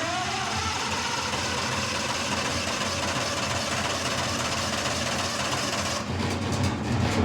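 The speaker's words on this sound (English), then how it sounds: "God, this engine is wore out" A worn-out Vanguard engine on a Bandit 65XP runs nearby in a loud, steady, droning mechanical hum, its tone thinning slightly in the final second.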